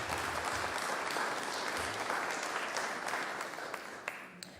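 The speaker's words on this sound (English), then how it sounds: "I just want everybody to give a round of applause to our officials" An audience at an Oakland mayoral forum applauds its officials, steady, dense clapping from many hands that fills the room for several seconds and thins slightly toward the end, with no talk over it.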